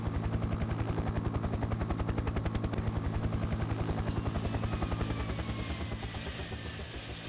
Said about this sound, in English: And this is why I have this helicopter on this map.